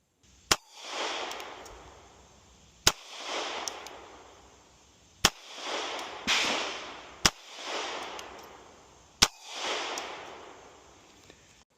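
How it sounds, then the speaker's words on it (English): An HK CC9 pistol fires Hornady Critical Duty 135gr +p rounds: five sharp, loud shots spaced a couple of seconds apart, each followed by a long rolling echo across an outdoor range, with no talking. "we're just gonna shoot, I think we just have 5 shots here today."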